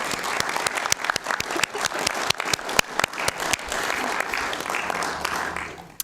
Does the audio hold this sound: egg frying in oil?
no